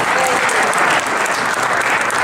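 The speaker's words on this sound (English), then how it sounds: "let's give him a round of applause anyway." Audience applause at a town meeting in Meriden, a dense, steady wash of many hands clapping at close range that holds at full loudness for the whole stretch.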